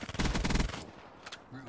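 Rapid automatic gunfire from the Call of Duty Black Ops 3 video game, a dense loud burst of shots that cuts off after under a second, followed by a few quieter scattered game sounds.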